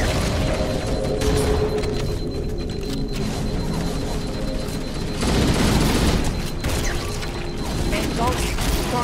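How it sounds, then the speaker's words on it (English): A Halo: Combat Evolved Anniversary explosion bursts out of a busy mix of mechanical clatter and rapid gunfire, with a louder booming surge midway through. "Explosion apparently."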